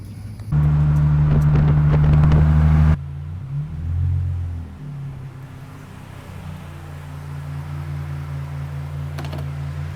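A small homemade motorized kart idles, then revs with a rough, droning engine tone close by. The pitch rises and falls as it pulls away and settles into a steady rumble while driving, with no talk.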